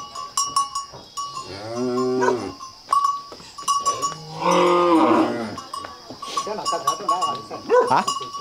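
Cattle at a Vietnamese livestock market moo loudly in several long calls while cowbells clank and ring around them, with people talking nearby and a dog or goat also audible.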